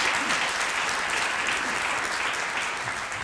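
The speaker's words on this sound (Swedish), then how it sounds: "det är ju värt en applåd" A studio audience claps in a dense, even wave of applause that lasts the whole stretch without fading, with only a faint voice beneath it.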